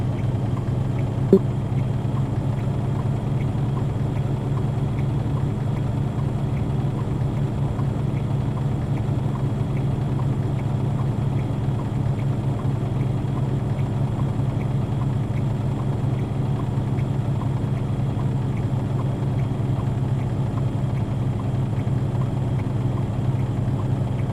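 A heavy truck engine drones steadily at a constant low pitch, straining under a 147-ton load while climbing a ramp in the game American Truck Simulator, with no voices.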